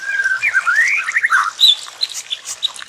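A magpie robin (murai) feeding its chick gives quick, bright, warbling whistles and squawky chirps in a rapid sliding phrase, then scattered high chirps. It is close and clear, with no talking.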